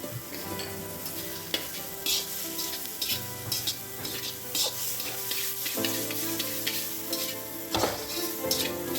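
Shrimp sizzle steadily in a hot wok for restaurant-style mixed fried rice, with close stirring and scraping of the spatula over the continuous frying hiss.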